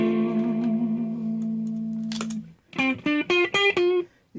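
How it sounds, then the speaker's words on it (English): Hughes & Kettner Black Spirit 200 Floor guitar amp with reverb turned way up: a sustained chord rings out with a long wash, then a series of five short punchy notes each trailing a heavy reverberant tail, alone without talk. "So now it's crazy reverb."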